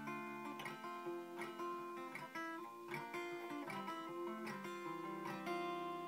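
Steel-string acoustic guitar alone, picking individual strings and strumming down through a chord progression in a steady rhythm, close and clear with no voice.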